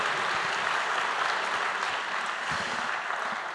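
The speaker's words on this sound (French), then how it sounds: "Vous pouvez applaudir la GMF pour ce partenariat très fort." An audience at the Unapei congress in 2017 breaks into sustained, dense applause, a close, even patter of many hands clapping that fades slightly toward the end.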